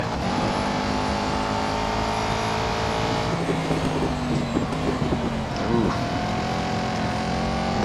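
An Aston Martin Vantage GT4 race car in Real Racing 3 video game holds a steady, loud engine drone with shifting pitch as it overtakes for the lead, joined by passing engine sounds.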